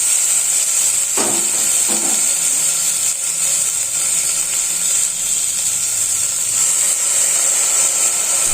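Washed sprouted beans dropped into hot frying oil in a home kitchen, giving a steady close hiss and sizzle that runs throughout, with a few faint utensil knocks early on.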